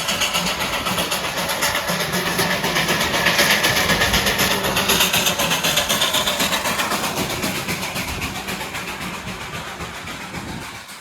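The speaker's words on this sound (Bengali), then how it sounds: "ভীষণ আওয়াজ ছিল টয় ট্রেনটার" Darjeeling toy train passing near Batasia, a loud, close engine rumble with a rhythmic chugging beat that eases slightly toward the end, heard without voices.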